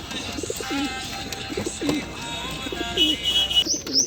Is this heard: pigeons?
yes